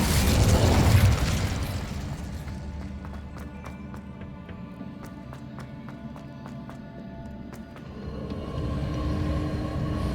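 A fire spell cast in Hogwarts Legacy on PS5 bursts out loud in a whooshing, booming blast in the first two seconds, then gives way to a quieter rumbling game soundscape broken by sharp clicks and ticks.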